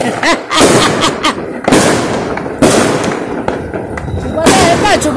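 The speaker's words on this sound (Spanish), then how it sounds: "Los petardos." A rapid string of loud firecracker bangs and crackles goes off close by, overlapping in dense bursts with voices shouting faintly underneath.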